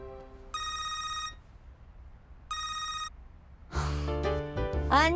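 A telephone rings in two separate electronic bursts, loud and close, in a Chinese urban drama; after the second ring comes a burst of louder mixed noise with voice-like sounds.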